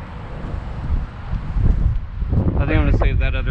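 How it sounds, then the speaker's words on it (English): Gusty wind buffets the microphone with a steady low rumble, and a person starts talking near the end. "Another pretty windy day."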